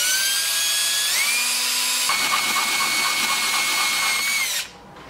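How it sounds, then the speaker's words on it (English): A power drill bores a hole while fitting a street legal kit on a four-wheeler, a loud steady high whine whose pitch steps up partway through, running continuously before cutting off abruptly near the end. "So we'll go ahead and get this ready to drill"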